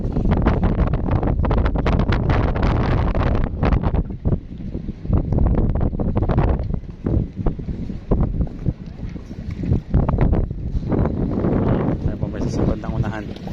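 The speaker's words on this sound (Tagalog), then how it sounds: "malakas ang hangin eh" Strong wind buffets and roars against the microphone in heavy gusts, mixed with water sloshing around a fishing boat off Mykonos, Greece, while a person talks.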